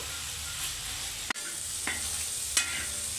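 Onions and green chillies fry in oil in a pan for gongura chicken, a steady close sizzle broken by three sharp scrapes of a stirring spoon.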